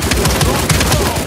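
Rapid bursts of Stoner light machine gun fire in Uncharted 4 survival mode, aimed at a boss; loud, close shots in quick repeated volleys lasting the whole moment.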